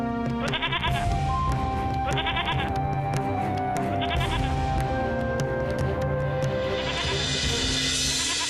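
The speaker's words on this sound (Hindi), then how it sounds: "वो बकरा कैसे चिल्ला रहा है ना?" A frightened, distressed goat bleats loudly several times in repeated calls over a busy background of music, with no speech.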